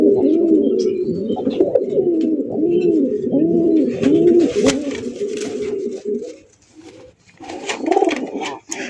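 Pigeons coo steadily and loudly at a pigeon farm, overlapping rolling calls close by, with a brief lull near the end before the cooing resumes.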